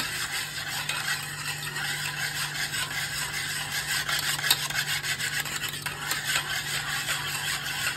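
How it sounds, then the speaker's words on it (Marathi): Yogurt is whisked smooth in a bowl with a steady, continuous scraping and rubbing rhythm, close and moderately loud, under a constant background hum. "दही आपल्याला व्यवस्थित फेटून घ्यायचंय"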